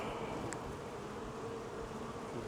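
Honey bees buzz around an opened hive, a faint, continuous hum of many insects filling the air with no voices.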